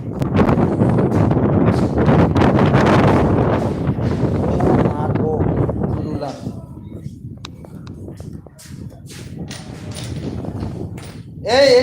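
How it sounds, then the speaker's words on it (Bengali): Strong storm wind roars and buffets the microphone loudly for the first several seconds, easing to a steadier rush with scattered knocks and rattles, while people talk over it. "যে পরিমাণ বাতাস বইছে মনে করেন যে বৃষ্টি নামলে পুরো ডুবাইয়া দেবে"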